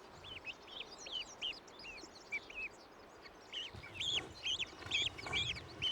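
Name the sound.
baby hawk chick calling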